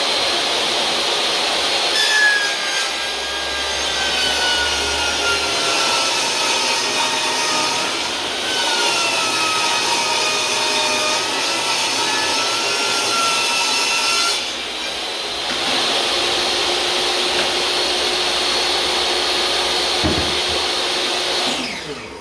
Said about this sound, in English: So use my DeWalt table saw.